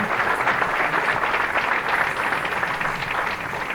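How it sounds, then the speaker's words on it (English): Audience at a 1993 Baltimore Open bowling match applauding steadily, a dense even patter of many hands sustained throughout at moderate volume, with no one speaking over it. "Applauding the efforts of the ball."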